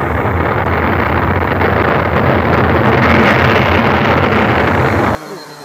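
A Blade Chroma quadcopter's motors roar loud and steady at takeoff, a dense broadband whir with wind buffeting that cuts off sharply near the end, leaving a quieter hum.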